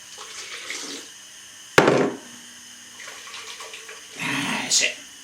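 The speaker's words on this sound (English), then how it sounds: "add a bit of water in." Water pours and splashes into a pan of soy pulp in two short bursts while making tofu, close by, with quiet kitchen sounds in between.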